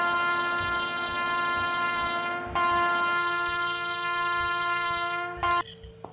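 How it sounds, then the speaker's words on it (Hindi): Horn of a WAP-7 electric locomotive in an Indian train simulator game at Mathura Junction, a long loud sustained multi-tone blast with a brief break and a second sounding, over the low rumble of the running train, no talking. "चलिए हॉर्न"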